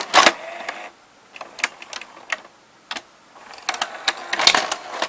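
The half loading mechanism of a Zenith VRS-60 or Magnavox VR9241AT01 VCR whirs and clicks up close, with scattered sharp mechanical clicks and clatters separated by quiet gaps.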